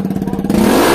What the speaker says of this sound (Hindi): बिना एग्जॉस्ट के तो भाई क्या ही तगड़ी साउंड आ रही है।